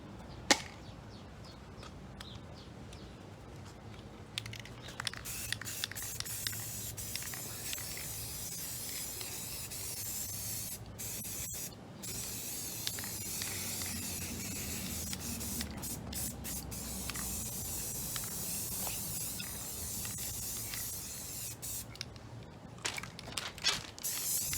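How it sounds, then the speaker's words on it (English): An aerosol spray paint can hisses in long steady bursts with brief pauses while animal-figure bookends are coated outdoors over bulletin board paper laid across bricks, close and continuous. "We're getting ready to spray paint them."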